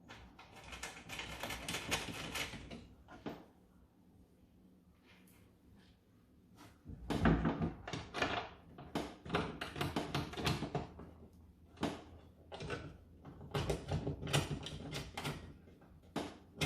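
Bolts are fitted by hand into an electric window regulator inside a car door, giving irregular bursts of close metallic clicks, clunks and rattles separated by short quiet gaps.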